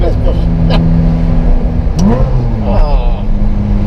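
Ferrari sports car engine revving loud and close, pitch climbing and falling in surges, with people talking over it.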